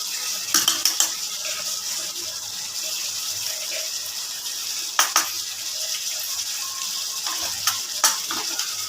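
Ghee sizzles in a pan for soybean kofta curry with a steady hissing fry close by, broken by a few sharp metallic clinks of a spoon against the pan.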